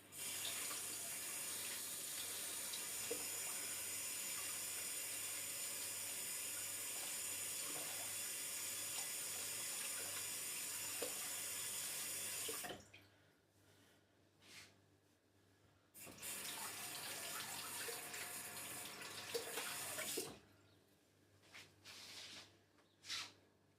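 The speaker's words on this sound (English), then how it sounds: "Just give that a little rinse under the tap" Water from a kitchen tap runs steadily onto a baking utensil being rinsed, a loud continuous splash for about twelve seconds, then stops and restarts in shorter bursts with quieter gaps between.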